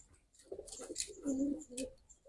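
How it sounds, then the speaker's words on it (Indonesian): A homing pigeon gives soft, low cooing calls in a few short phrases, quiet and close, with faint background noise. "Ini juga burung pulangan ini loh"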